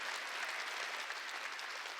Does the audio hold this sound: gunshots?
no